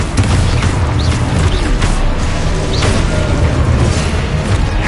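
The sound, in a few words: Confringo and Exposo spell explosions in video game Hogwarts Legacy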